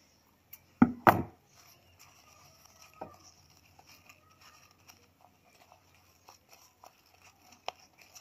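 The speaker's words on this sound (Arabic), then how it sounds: "نقطع الخيط" Scissors cut the thread on a handmade hair clip: two sharp, close snips come early, then faint scattered handling noises in a quiet room.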